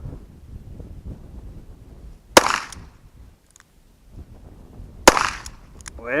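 A .22 Heritage Sentinel pistol fires two sharp shots several seconds apart at a steel dueling tree target, each crack followed by a brief metallic ring from the struck plate, with light wind noise and quiet low rumble between.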